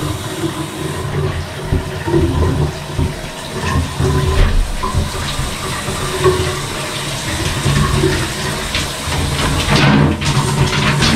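Water pours steadily into a bathtub being filled for a Jack Russell Terrier's bath, a continuous rushing splash that stays close and fairly loud from start to finish with no talk.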